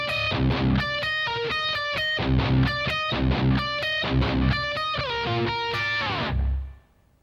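A distorted electric guitar plays the break riff, sharp chugging power chords and short melodic stabs in tight rhythm, ending in a held chord that cuts off abruptly.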